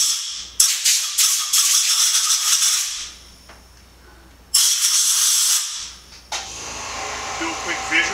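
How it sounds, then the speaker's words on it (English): Compressed air blown into the hydraulic roof latch cylinder of a Mercedes SLK230 convertible, loud close hissing bursts, two long blasts and several short ones separated by quiet gaps. "we're going to go ahead and give it a nice little squirt of air"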